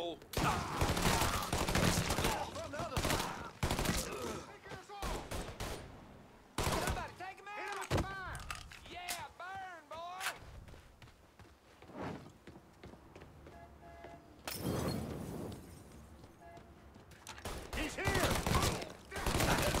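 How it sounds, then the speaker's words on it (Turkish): Bursts of gunfire from the video game Mafia III: rapid fusillades and single shots in loud clusters separated by quieter gaps, with someone talking between and over the shooting. "Bayağı da vurdum ya."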